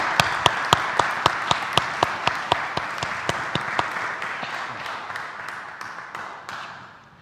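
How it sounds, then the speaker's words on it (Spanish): An audience at a crime-fiction literary event applauds during an award presentation, a sustained crowd of clapping with one sharp, rhythmic clapper standing out near the microphone, gradually fading over several seconds. "yo creo que se merece un grandísimo aplauso"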